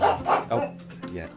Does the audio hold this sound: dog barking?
yes